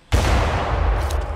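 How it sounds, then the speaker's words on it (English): A single loud, close pistol shot bursts out sharply in a dinosaur hunting game, its boom lingering in a long rolling echo. "One shot and then I get the pistol out."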